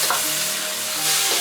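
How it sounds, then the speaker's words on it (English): Mushrooms stir-fried with light soy sauce and spring onion sizzle loudly in a hot pan, a short burst of dense hissing with a faint scrape of stirring. "Briefly stir."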